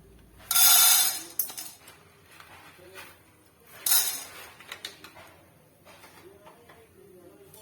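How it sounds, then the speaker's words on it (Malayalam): Handful of popcorn kernels dropped into a hot pan, two bright rattling clatters a few seconds apart followed by scattered lighter clinks, fairly close and otherwise quiet. "അതിലേക്ക് ഒരു പിടി കോൺ ഇട്ട് കൊടുക്കാം"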